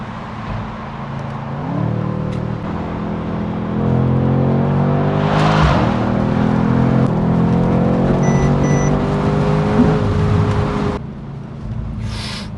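A Mercedes C63 S AMG accelerates hard up a freeway on-ramp, its engine note climbing through rising gear pulls with a sharp shift break midway, loud and close from inside the car.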